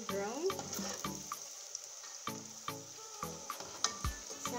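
Vegetable Manchurian balls fry in a pan with a soft, steady sizzle, broken by intermittent stirring clinks and scrapes; faint and close, with background music and no talking.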